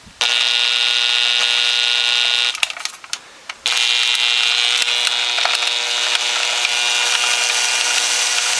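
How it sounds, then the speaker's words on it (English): A pulse-width-modulated power drill runs steadily with a high, tonal whine, cuts out briefly for about a second, then resumes at the same pitch. "This is a pulse width modulated drill, which is why it makes that noise."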